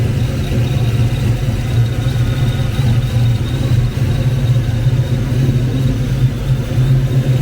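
A Foxbody Ford Mustang with a supercharged Kenne Bell 5.0 V8 engine runs at a steady idle. The rumble is loud, close and continuous, with a faint high whine from the blower and light talk underneath.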